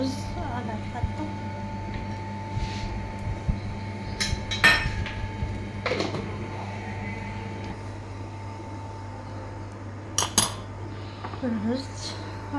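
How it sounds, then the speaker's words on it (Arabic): A metal spoon scrapes and clinks against a serving dish as rice is scooped onto fatteh, a bread-based Arabic dish. The clinks are intermittent and fairly close, over a steady low hum. "نغرف الرز على الفتة."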